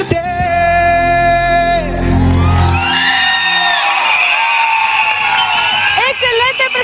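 After a televised singing performance of a ballad, the final sung note gives way to a loud studio audience whooping and cheering, with shouts rising over the crowd noise and no clear applause claps standing out.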